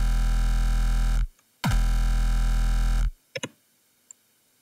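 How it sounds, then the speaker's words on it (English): Speedcore kick drum rendered with no mech, a loud distorted sustained tone cut by a sharp stuttering glitch where the top and tail of the kick join, then ending in a few brief clicks. "you can hear there's this weird stuttering sound between when the top and the tail join together"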